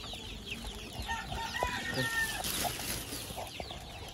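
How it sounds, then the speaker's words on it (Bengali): Desi (indigenous) chickens on a poultry farm cluck and call softly at a moderate distance, with several overlapping short clucks against a quiet farmyard background. "এগুলো একদম দেশি মুরগি"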